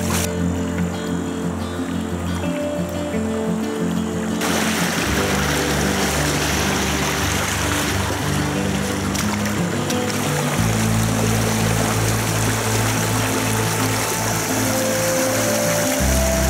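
A shallowed river running over riffles and small rapids, a steady broadband rush of flowing water that stays loud and continuous throughout, with a heavier low rumble in the later part.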